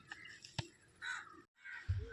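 Crows caw in a few separate bursts near a riverbank where a family has come to visit, the calls fairly close and harsh, broken by a brief silence, with a low rumble near the end.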